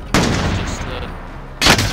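Gunfire in the video game Call of Duty Warzone: two loud, close bursts of shots, the first running longer and the second a short sharp volley, with a low rumbling game background between.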